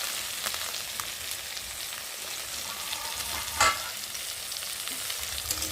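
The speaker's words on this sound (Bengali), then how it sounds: "দেখো ভাজা ভাজা হয়ে গেছে আলু আর বেগুনগুলো" Potatoes and eggplant frying in oil in a pan, a soft continuous sizzle with scattered crackles and a brief louder spatter or clatter midway.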